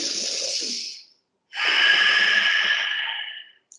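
A person inhales during a yoga breathing exercise: two audible breaths through the nose, a shorter one then a longer, stronger one after a brief pause, close and clear with no talking.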